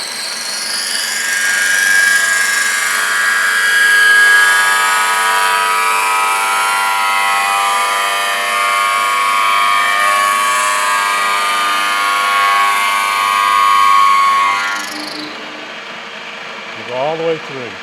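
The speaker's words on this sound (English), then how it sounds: "we're just going to drill right through there" A power drill bores through a metal cross bar for a chain hoist trolley, a loud, steady whining grind with a shrill ringing tone that holds for about fifteen seconds, then cuts off and winds down to quiet.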